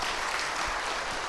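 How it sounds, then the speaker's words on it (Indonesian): Brief, soft audience applause during a motivational talk, a short steady patter of clapping from a seated crowd. "Tepuk tangan dong."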